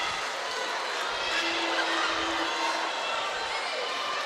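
A crowd at a women's college basketball game between Tuskegee and Clark Atlanta murmurs and stirs as a steady, moderately distant background wash, with no sharp cheers standing out.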